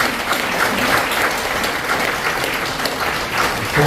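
A church congregation at a general assembly gathering in Hawaii breaks into sustained applause, dense and even clapping from a large crowd filling the room.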